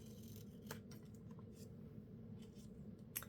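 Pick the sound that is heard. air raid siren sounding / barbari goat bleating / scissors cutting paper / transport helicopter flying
scissors cutting paper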